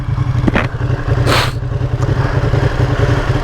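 A 2020 Ducati Panigale V2 motorcycle engine rumbles loudly and close on a road ride, with brief rising bursts as the rider makes quick downshifts, all under heavy wind buffeting.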